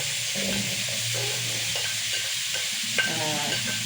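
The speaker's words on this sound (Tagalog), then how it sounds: "Lagay na natin ang ating bawang at sibuyas." Garlic and onion frying in a pan for adobong sitaw with pork, giving a steady, close hiss of sizzling oil broken by a few soft stirring scrapes.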